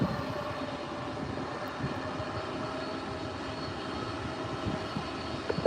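Hawaiian Airlines jet taxiing on runway 24R at LAX, a steady distant engine rumble and whine that holds at an even level throughout, with no voices.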